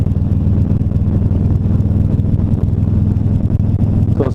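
A 2018 Harley-Davidson Road Glide with aftermarket shocks rides over a bumpy road, its engine droning low and steady with a constant rumble and wind buffeting close to the microphone.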